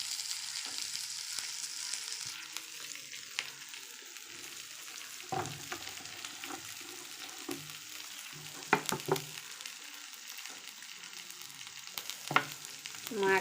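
Fish frying in hot mustard oil, crackling and sizzling steadily with scattered sharper pops and a few stirring scrapes, heard close up at moderate level without speech.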